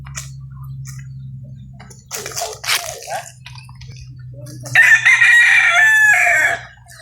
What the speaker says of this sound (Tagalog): May mga alagang manok.